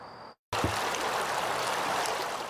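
Jones Falls river in Baltimore flows steadily in a broad, continuous rushing wash with no talk, following a brief dropout of silence.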